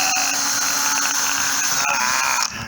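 A power drill runs continuously at high speed, driving into old pallet wood while a bench is being built. The whine is loud and close, with no speech, then cuts off sharply near the end.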